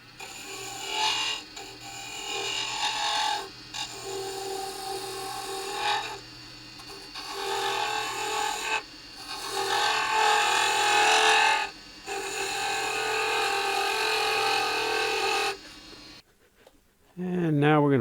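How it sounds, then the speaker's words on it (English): Skew chisel shaving a spinning wooden gavel handle on a wood lathe, a raspy scraping hiss in several long passes separated by short pauses, close and fairly loud, with the motor dropping away at the end. "get the skew out so I can get the nicest finish that I can on this handle"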